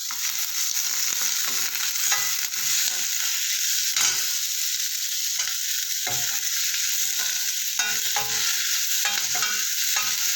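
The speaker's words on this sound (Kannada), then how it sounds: "ಫ್ರೈ ಮಾಡ್ಕೊಳ್ಳೋಣ, ಸ್ವಲ್ಪ ಗೋಲ್ಡನ್ ಕಲರ್ ಬರೋವರೆಗೂ. ಅದರ ಜೊತೆನೇ ಚಕ್ಕೆ ಲವಂಗ ಸ್ವಲ್ಪ ಒಗ್ಗರಣೆಗೆ" Cinnamon and cloves fry for a mutton biryani tempering with a dense, continuous close sizzle, and frequent stirring scrapes of a spoon in the pan sound over the top with no talking.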